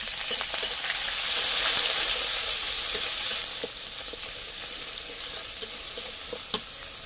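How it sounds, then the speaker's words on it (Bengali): Chillies and onion paste fry in hot oil with a loud, bright hissing sizzle that swells early then settles, broken by occasional clicks of stirring. "মরিচ ভেজে নিচ্ছি, দিয়ে দিচ্ছি পেঁয়াজ বাটা"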